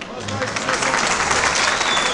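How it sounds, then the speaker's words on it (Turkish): Audience applause fills a crowd gathering at a village cultural and entertainment program from Aşkale, Erzurum, a steady dense clapping wash lasting a couple of seconds with voices mixed in. "Yani biraz alkış gelsin."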